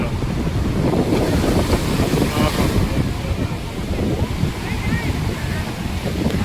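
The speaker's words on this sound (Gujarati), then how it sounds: "એની એકદમ એક્ઝેક્ટ બાજુમાં દરિયો છે. ફૂલ પવન આવે છે દરિયામાંથી," Sea surf and strong gusting wind roar right beside the Bhadkeshwar Mahadev temple on the shore at Dwarka, a continuous loud wash with heavy wind buffeting on the microphone throughout.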